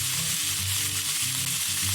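Chuck steak sears in a hot pan, giving a continuous dense sizzle with a steady crackling hiss and a low hum underneath, no voices.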